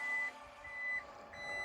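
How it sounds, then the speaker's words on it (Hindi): The electronic tailgate of a Maruti Nexa Invicto Alpha Plus closes with a series of evenly spaced, high electronic beeps over a quiet motor hum, faint and close. "फिर से आपको बंद करना है, सिंगल प्रेस करिए, इलेक्ट्रॉनिक टेल गेट।"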